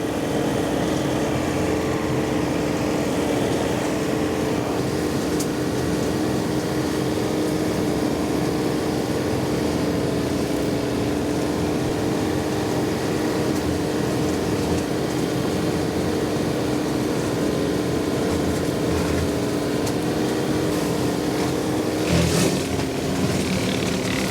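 A 46 horsepower tractor pulling a 10-foot flexwing mower through heavy fescue and small trees, its engine a steady, loud drone held without letup, with a brief rise in noise near the end.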